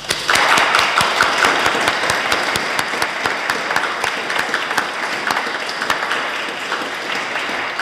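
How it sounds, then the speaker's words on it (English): A church congregation applauds a musician after a service, steady dense clapping filling the whole stretch at close range with a few sharper individual claps standing out. "So let's give Bill a round of applause."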